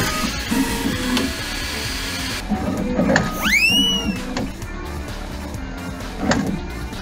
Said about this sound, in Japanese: 印刷が始まる前だったり AMS を使った多色印刷でフィラメントを切り替える時なんかにフィラメントを捨てる動作が入ります。